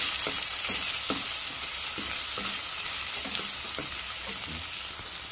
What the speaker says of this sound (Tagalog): Ayan po, ginisa ko na yung bawang.